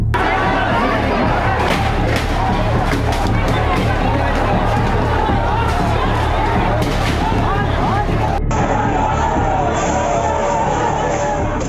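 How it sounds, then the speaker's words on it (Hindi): Rioting crowd forcing through barricades at a hospital, a loud dense roar of many shouting voices with constant hubbub, heard as a steady wall of noise. "उपद्रवियों की भीड़ बैरिकेड तोड़ती हुई अस्पताल परिसर के अंदर दाखिल हो गई।"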